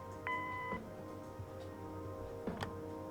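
Electronic answering machine beep from the Kathy Rain video game, a single clean tone of about half a second near the start, followed by faint clicks and a soft thump over low background hum.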